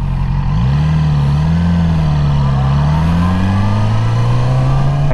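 A 2020 Yamaha R6 sport motorcycle roars loudly while being ridden, its engine note climbing and wavering through the revs in a continuous, close, high-pitched drone.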